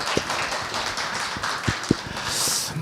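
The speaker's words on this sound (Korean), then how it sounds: "여러분도 함께 또 멋진 연주를 하신 양옆에 계신 분들께 박수를 보내주시면 어떨까요?" Scattered hand claps from a small concert audience after a Baroque recorder, harpsichord and viola da gamba performance, sparse and fairly quiet taps spread over a few seconds rather than full applause.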